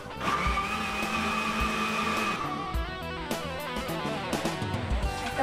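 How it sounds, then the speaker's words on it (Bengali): An electric blender whirs loudly and steadily close by while mixing pudding batter with sugar, its motor pitch wavering and dipping as the contents churn, with no voices. "আবার ভালো করে ব্লেন্ড করতে হবে।"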